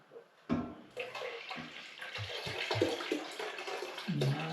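Warm homemade blackcurrant, rhubarb and gooseberry milkshake stout is poured steadily into a vessel, producing a continuous close gushing and splashing of liquid that starts abruptly and runs unbroken to the end.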